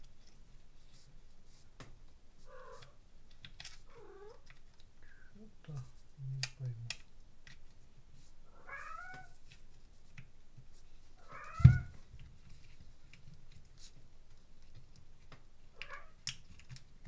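A cat meows to be let outside, several short plaintive meows scattered across a quiet room amid soft clicks and handling noises, with someone speaking quietly at times.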